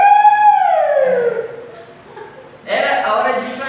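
A factory siren sounds as a voice imitates it, wailing long and falling in pitch, followed by a short burst of laughter from the group.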